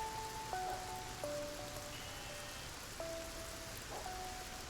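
Steady rain in the strategy game MasterPlan Tycoon, a continuous soft patter of drops running under gentle musical tones, even and moderately quiet throughout.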